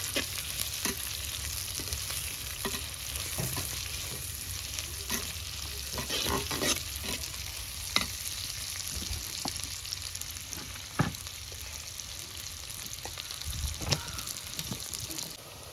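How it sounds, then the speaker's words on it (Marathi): Onion sautéing in a pan with garlic for a tender jackfruit curry, a steady soft sizzle broken by occasional stirring scrapes and clacks, close and moderately quiet. "कांदा आपल्याला चांगला परतून घ्यायचा आहे"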